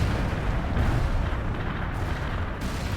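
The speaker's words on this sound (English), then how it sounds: "danger close with the fucking rockets, bud" Rocket strikes exploding close by in World in Conflict, a dense, continuous rumble of heavy blasts and booming impacts that stays loud for the whole stretch, with no talking over it.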